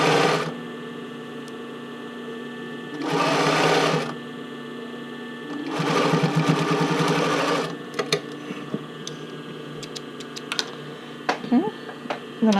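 A sewing machine runs slowly in two short bursts, stitching the band casing on a classic bra. Quiet pauses and small handling clicks fall between the bursts.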